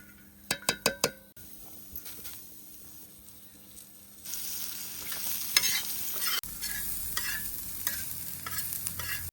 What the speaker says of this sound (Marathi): हे कांदा भाजून घेतो.